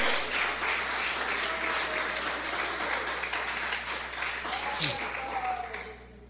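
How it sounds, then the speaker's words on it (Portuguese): Inside an O Brasil Para Cristo church service, the congregation applauds with a dense, loud, sustained clapping mixed with voices over a steady low hum, tapering off at the end. "Aplauda ao Senhor"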